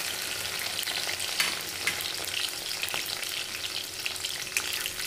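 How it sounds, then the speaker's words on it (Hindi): Okra fries in a pan with a continuous close sizzle and crackle, broken by occasional stirring scrapes and pops, with no voices. "अब हम इसमें भिंडी को फ्राई करेंगे।"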